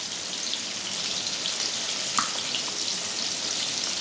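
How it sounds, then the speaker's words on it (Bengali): Potatoes seasoned with salt and turmeric frying in oil for a mutton dish, a steady close sizzle with fine crackling pops throughout, with no talk. "এবার হচ্ছে আলুগুলোকে আমরা লাল লাল করে ভেজে নেব।"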